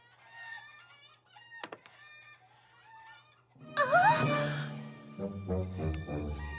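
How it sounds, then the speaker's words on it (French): Chickens cluck and squawk in a sudden flurry over quiet background music, then a few scattered clucks follow. "Fluttershy, tes poules se sont enfuies."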